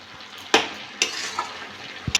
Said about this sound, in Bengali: এটা নেড়ে চেড়ে নেবো।